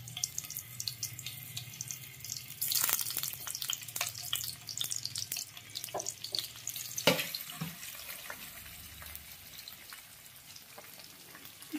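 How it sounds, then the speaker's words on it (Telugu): Paneer cubes fry over a low flame in a pan, giving a steady hiss scattered with crackles and sharp pops, moderately loud and close, with no talking. "పన్నీర్ని ఫ్రై చేసుకుందాం"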